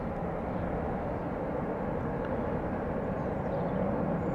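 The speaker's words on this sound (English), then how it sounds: "So this A330 off to Atlanta, 16 years old, had its first flight in December" A 16-year-old Airbus A330 jet airliner at Amsterdam Schiphol Airport gives a steady, broad engine roar that holds at an even level throughout, without voices.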